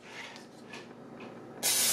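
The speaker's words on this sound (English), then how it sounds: "Spray in your pan with Pam." A short, loud burst of aerosol cooking spray hisses in at the end, after soft, faint rustling.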